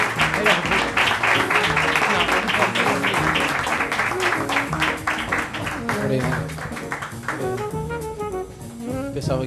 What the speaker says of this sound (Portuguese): vamos receber com um grande aplauso o João Cirne